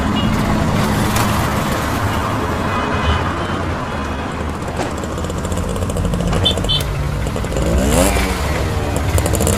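A motorcycle carries two riders in an animated Hindi horror story, its engine and road noise forming a steady, dense rumble that runs unbroken and fairly loud throughout, with no speech.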